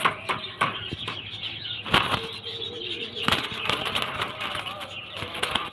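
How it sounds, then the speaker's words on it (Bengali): A pigeon flapping its wings restlessly inside a cage, giving sharp repeated bursts of wingbeats that are loud and close, with someone talking in between. "একটা ভালো পায়রা খাঁচায় দিলে সবসময় ছটফট করবে"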